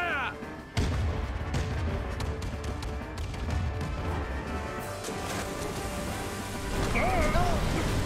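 Ship cannons firing during a naval battle in Kingdom Hearts 3, a sudden heavy boom followed by sustained rumbling, crackling bursts and battle noise, with a brief whistling effect near the end.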